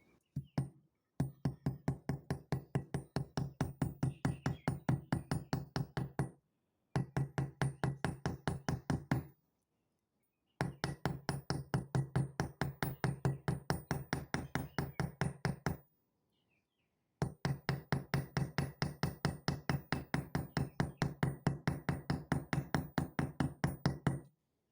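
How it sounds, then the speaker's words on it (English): A heavier hammer strikes a braided copper wire cuff bracelet in rapid, steady metallic taps, four long runs of dozens of even blows separated by brief pauses, close and clear with no talk. "I'm using a heavier hammer."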